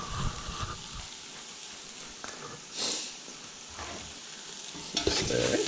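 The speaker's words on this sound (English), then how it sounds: "Keep stirring." Vegetable pasta being stirred in a pot, with a continuous close sizzle and the rhythmic scrape of a utensil moving through the food, and no talking.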